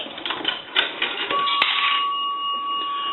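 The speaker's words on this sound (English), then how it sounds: "nickels will ring the bell one time" A single bell strike rings out from an A&E three-slot chrome payphone as a nickel drops, leaving a clear ringing tone that sustains over light clicking and handling of the coin mechanism.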